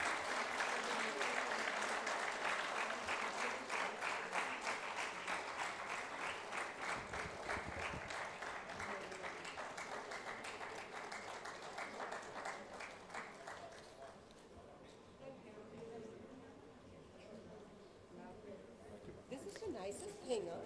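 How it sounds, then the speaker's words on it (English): At a medical awards ceremony an audience gives sustained applause that fades out over time, then quieter talk and room noise follow. "Let's hear a big round of applause for all of them."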